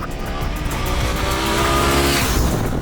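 A TVS Apache RTX 300 motorcycle's engine runs loud and close, a steady drone pitching up as it works through the higher gears, strong and unbroken with no talk.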